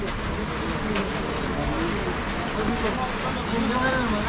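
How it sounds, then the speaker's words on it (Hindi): Steady heavy rain hisses throughout on the mountain road from Naran to Saif ul Malook Lake, Pakistan, dense and even, with traffic or engine rumble beneath and voices faintly audible in the mix. "और बारिश काफ़ी तेज़ हो गई"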